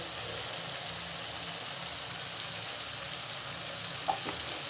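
Shrimp paste frying in a pan gives a steady, fairly quiet sizzle throughout, with a brief sharper crackle near the end.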